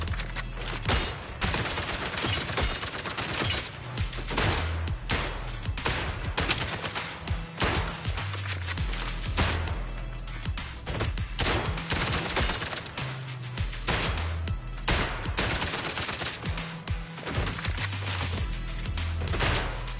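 Rapid gunfire in Zenless Zone Zero crackles steadily for the whole stretch, loud and close, in repeated bursts of shots with no voices over it.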